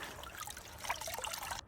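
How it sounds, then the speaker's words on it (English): Water dribbles and trickles as wet pants are wrung out by hand, a faint, close splashing stream that runs briefly with no talking. "Just gonna wring out this extra water."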